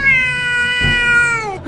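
A cat lets out one long, loud, drawn-out meow at close range, sliding slowly down in pitch, with a brief thump partway through.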